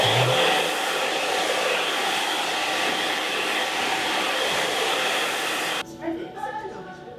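A hair dryer blows steadily and loudly as it dries hair after a slick-back undercut fade haircut, a constant broadband whoosh for nearly six seconds before it cuts off abruptly, leaving a quieter tail of faint sounds.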